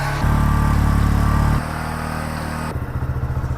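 A Bajaj Boxer 125 motorcycle engine idles steadily up close, its low chugging hum shifting pitch slightly a couple of times as it warms.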